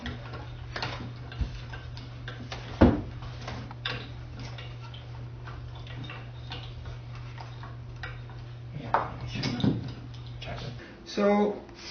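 Screws on a ceiling fan mounting bracket being unscrewed, a run of close ticking clicks with a few sharper knocks, over a low steady hum while a person talks.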